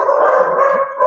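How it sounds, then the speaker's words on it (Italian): A pet dog barks during an indoor book association meeting, giving one sustained, loud, close howling bark with a whining tone. "scusate, ma il mio cane abbaia sempre"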